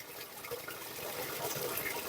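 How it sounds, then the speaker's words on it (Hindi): Cold spring water flows and trickles out of a mountainside in a Bajaur village, a steady close rushing wash with no talk. "ये इसमें से ना पहाड़ में से ये पानी आ रहा है"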